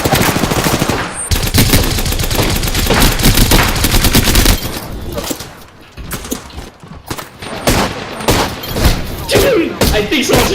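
Rapid bursts of automatic gunfire and thumps from the video game Apex Legends rattle loudly in clustered volleys, with a player's voice talking over parts of it.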